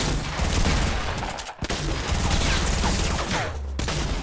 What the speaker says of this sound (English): Why did my shotgun shoot, dude?